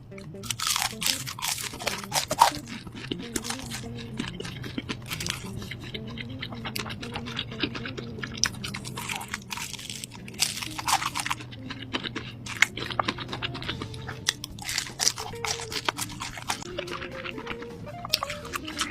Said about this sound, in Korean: 치킨 너겟도 엄청 바삭할 것 같아요.